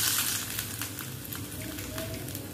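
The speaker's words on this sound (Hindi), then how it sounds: "अब इस तड़के को हम अप्पे के बैटर में ऐड करेंगे" Hot tempering of mustard seeds and chopped chilli in oil poured into rava appe batter gives a steady, close sizzling hiss with faint crackles, with no talking over it.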